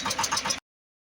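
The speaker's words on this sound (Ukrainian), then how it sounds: "ось так тракторець прогрівається трошки і будемо вирушати" A tractor engine warming up chugs close by with a steady pulsing idle for a moment, then cuts abruptly to silence.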